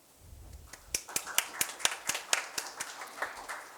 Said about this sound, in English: Please welcome Judge Lee with a big round of applause.